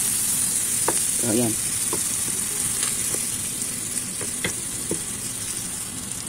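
Cooking oil sizzling steadily in a frying pan while Filipino-style spaghetti sauce is made, with a few clinks and a short stirring scrape, and someone talking briefly.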